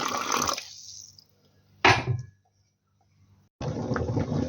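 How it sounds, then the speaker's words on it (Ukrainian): Hot tap water gushes and splashes into glass jars in two short bursts, with a brief pause between and a longer pour at the end. "З крана набрала гарячої води і буду заливати."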